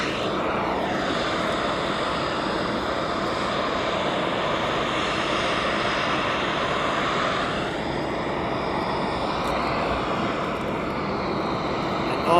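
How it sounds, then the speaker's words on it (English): An inbound DHL cargo aircraft at East Midlands Airport produces a loud, continuous engine roar with a shifting whine that sweeps in pitch as it passes, heard alone without speech. "This one is the DHL inbound."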